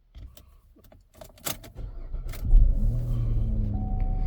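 Keys jingle and clicks sound, then a 2010 Chevy Equinox engine cranks and catches, settling into a steady low idle rumble close by.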